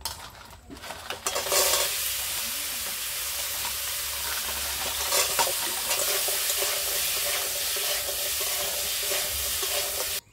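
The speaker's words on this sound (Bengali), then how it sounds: "আর এই কাঁকড়াগুলো আমি হালকা করে ভেজে নেবো" Crabs frying lightly in hot oil with turmeric and salt, a dense, close sizzle after a brief clatter at the start, continuing steadily with faint stirring sounds.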